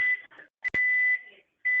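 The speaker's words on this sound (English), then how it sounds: "something's beeping on the phone?" A high electronic tone beeps in several short and long pulses, with a brief click between them, close and clear.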